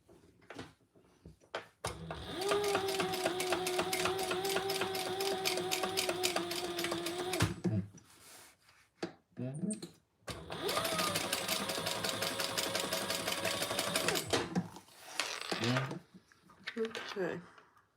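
A sewing machine runs two long stitching passes, a steady rapid whirring hum lasting several seconds each, with a short pause between them; a voice speaks briefly in the gaps. The work is a crossbody bag.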